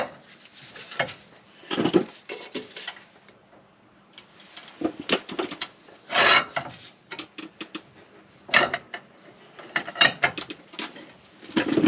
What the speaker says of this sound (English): I'm going to add this large persuasion bar onto the end of my ratchet to give me a little more leverage on these.